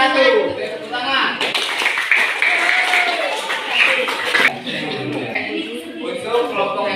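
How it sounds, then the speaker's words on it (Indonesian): Classroom applause welcoming the first student group to present, a burst of clapping from a room of people lasting several seconds over continuous background chatter. "Tepuk tangan."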